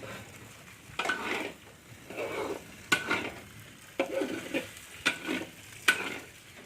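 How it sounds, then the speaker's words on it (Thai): Meatballs stir-fried in a pan with only a little oil, giving a steady sizzle under repeated scraping and stirring strokes of a utensil against the pan, with sharp clacks at intervals and no talking. "อันนี้เขาเรียกผัดลูกชิ้นนะน้ำมันน้อยๆ"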